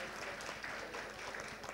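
An audience at a road safety awards function applauds Mr. Rama Rao with a faint, dense round of clapping that stays even throughout.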